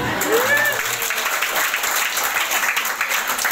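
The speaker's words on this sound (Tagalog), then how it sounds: "Meron ba akong masarap na palakpak?" Audience at a distributor orientation seminar claps together, a continuous broadband patter of many hands, with a brief voice and a faint whistle-like tone near the start.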